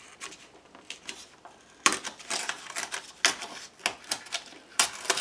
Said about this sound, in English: I tore all the edges off with the ruler